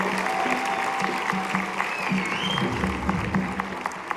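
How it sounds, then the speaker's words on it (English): An audience at a middle school winter concert applauds, a steady wash of many hands clapping at moderate loudness for several seconds, with a faint voice briefly underneath. "another round of applause for our staff that's out there early in the morning in the cold"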